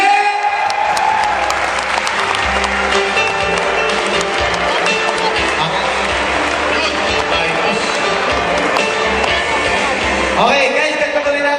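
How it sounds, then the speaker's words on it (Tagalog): Sustained, loud audience applause at a corporate awards ceremony fills the hall as top awardees are welcomed, with dense steady clapping throughout and voices mixed in beneath it. "okay lang ba mas lumalakas yung palakpak?"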